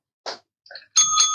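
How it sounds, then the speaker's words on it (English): A bicycle-style bell gives a few quick, bright rings: two short taps and then a sustained, ringing ding that fills the final moment, close and clear with no talk. "let's ring the bell for a smile."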